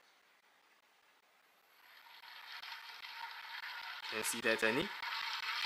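Aikamo motor unit driving a manual coffee grinder, starting with a quiet whirring hum that builds to a steady mechanical grinding with gritty, ratchet-like texture, while someone briefly speaks over it near the end.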